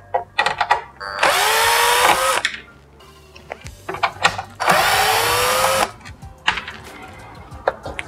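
A power screwdriver fitted with a size 2 Phillips bit backs screws out of a Gotway MSuper Pro electric unicycle during disassembly. Two loud, close whirring bursts of a couple of seconds each rise in pitch, separated by quieter handling clicks.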